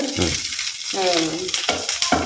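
Red chilies, onion and curry leaves sautéing in a pot over a wood-fired stove, a close, continuous frying sizzle with scraping stirs, and a voice briefly talking over it.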